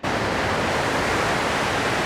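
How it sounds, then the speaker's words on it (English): Rushing river rapids near Dillon Falls among ponderosa pines, a steady, loud, broadband roar of churning water close by, continuous throughout with no voices. "So here's the river, a little bit more rapid than what we were on yesterday."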